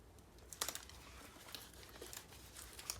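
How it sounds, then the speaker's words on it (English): Soft crinkling and crackling of a vinyl sheet being folded over a journal, with scattered sharp little clicks against a quiet background hiss. "I'm just folding over the vinyl."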